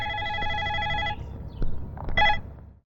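A telephone rings with a steady electronic tone for about a second, then a few short bursts of ringing follow after brief pauses, heard close by and without speech.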